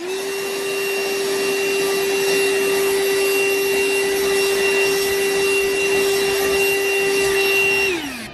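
A Vaclife cordless vacuum cleaner runs on carpet with a steady, loud motor whine and airflow that holds even for several seconds, then winds down quickly as it switches off at the end.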